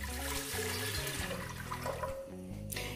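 Around four cups of water, about a litre, pour steadily into a pan for Kashmiri pink tea, a continuous close splashing, gushing stream with a faint background hum and no voices.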